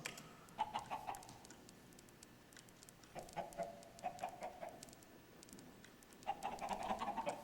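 Chickens in the Minecraft video game cluck in three short bursts of clucks, clear against a faint background with no talk.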